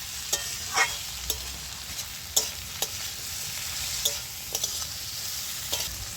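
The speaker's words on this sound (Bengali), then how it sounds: "এবার ভালো করে আমি নেড়ে চেড়ে দিচ্ছি।" Vegetables with salt and turmeric fry in fish oil in a pan while a spatula stirs them, giving a steady close sizzle broken by a series of sharp scraping clicks at irregular intervals.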